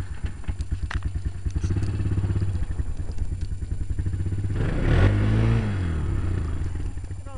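Honda Recon 250 quad revved hard at full throttle, the engine pulsing in a loud rough idle before climbing into a strained, rising roar, with clattering mechanical noise close by.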